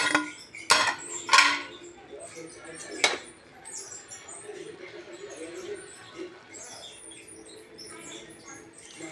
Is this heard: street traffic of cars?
no